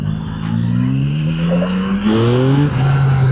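A Yamaha MT-09 motorcycle engine revs hard and climbs in pitch, dropping briefly as it shifts, then pulls up again, loud and close.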